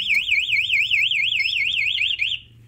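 MP 2 Way alarm module fitted to a Yamaha NMax motorcycle sounding a loud, rapidly warbling electronic siren that wavers up and down continuously, then cuts off abruptly near the end.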